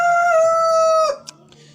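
A rooster in a poultry pen crows once, loud and close, a long drawn-out call that breaks off, followed by a short cluck against a quiet background.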